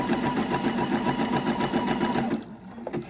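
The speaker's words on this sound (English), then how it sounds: "A little bit of a curve, keeping all the threads out of the way" A sewing machine stitches around a curved orange-peel appliqué on a quilt block, a close, fast, even mechanical whirring that stops after about two seconds, leaving a few soft handling sounds.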